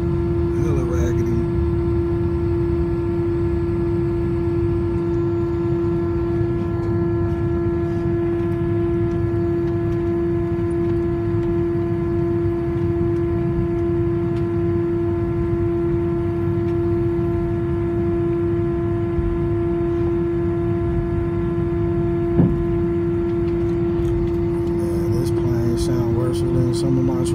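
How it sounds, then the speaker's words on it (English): Steady, loud droning hum of airplane engines heard from inside the cabin, unbroken throughout with a constant tonal whine, and faint voices near the end. "Plane sound like it should be put out of service for 10 hours."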